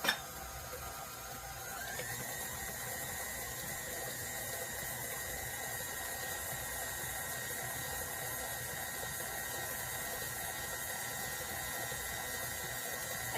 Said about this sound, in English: Again, we are going to stop the mixer, scrape everything down.